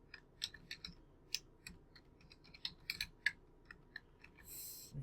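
Rapid keyboard typing on a computer, a string of light plastic clicks at an uneven pace with a brief burst of noise near the end, quiet and close with no voices.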